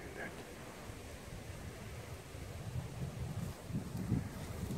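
Wind blowing outdoors at an old bakery site of a former Soviet army base in Germany, a steady loud rumbling roar buffeting the microphone and growing stronger toward the end.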